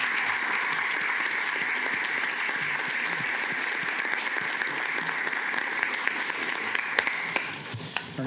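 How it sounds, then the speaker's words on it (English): Audience applause at a commissioners court meeting after a unanimous vote, a dense, steady burst of clapping filling the room for about eight seconds. "I think a round of applause for him as well."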